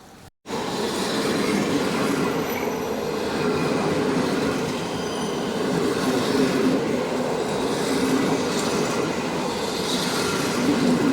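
A passing train with an open bicycle wagon, its loud steady rolling roar with clattering wheels and faint squeals, close by and continuous after a brief quiet start, without talk.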